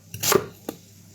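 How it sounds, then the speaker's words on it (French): A knife coarsely chops onions on a board, giving a couple of close, crisp thuds in quick succession, followed by a single lighter chop, with no voices. "Je coupe grossièrement les oignons."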